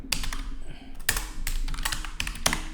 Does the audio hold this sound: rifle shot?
no